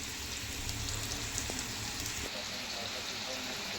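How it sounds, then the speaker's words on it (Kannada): Fish frying gently in a pan over a low gas flame, a steady, even sizzle and crackle throughout, with a few faint clinks. "ಸಣ್ಣಗಿಟ್ಟು ಫ್ರೈ ಮಾಡತ್ತೀನಿ ರೀ"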